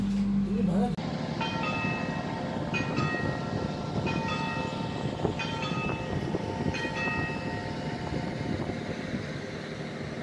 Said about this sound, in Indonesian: saat ini kereta api Kertanegara sudah sampai di stasiun Caruban